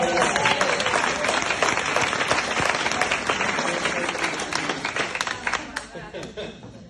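Loud, sustained audience applause fills the room with dense clapping and scattered crowd voices, tapering slightly toward the end.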